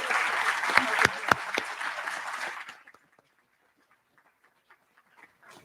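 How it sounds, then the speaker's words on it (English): Round of applause from the audience at an annual celebration dinner, a couple of seconds of full clapping with a few sharp louder claps, then it stops abruptly and leaves near silence with faint scattered noises. "So let's give Melinda a big round of applause."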